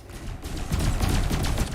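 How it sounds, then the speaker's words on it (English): Ship cannons fire in Elite Dangerous Odyssey, a dense run of rapid booming shots that starts after a short lull and keeps going, loud and close, with no talk over it. "Bit of cannon action there."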